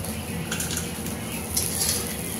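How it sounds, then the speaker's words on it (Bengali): Soya chunks fry in hot oil with a dense, continuous hiss and sizzle and a few faint scrapes of stirring, steady and close. "তারপরে তেল গরম করে সয়াবিনগুলো একটু লাল লাল করে ভেজে নেব।"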